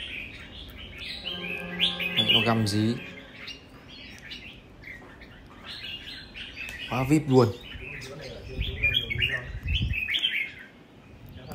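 A caged bird chirps and trills in several bright, quick bursts spread across the stretch, fairly close, while someone talks at times in between.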